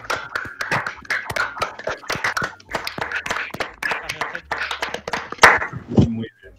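A small group applauds two guests at the end of an interview, a quick patter of close claps running for several seconds, with people talking over it.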